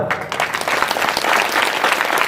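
A burst of loud, dense applause from an audience, sustained clapping throughout.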